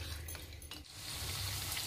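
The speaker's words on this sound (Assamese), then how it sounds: "মাংসখিনি মছলাত দি ভাজিছোঁ দেই।" Meat frying with spices in a pan for a dal gosht curry sizzles softly and steadily, a quiet continuous hiss with faint stirring.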